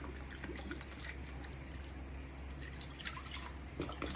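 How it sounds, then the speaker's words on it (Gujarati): Water trickles and drips into a bowl, two cups' worth for raw mango halwa, a soft, faint, continuous pour close by with no talking. "પાણી નાખીશું."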